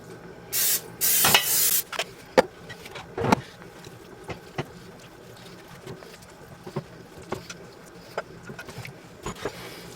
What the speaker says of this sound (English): I'm going to give my casserole just a quick spray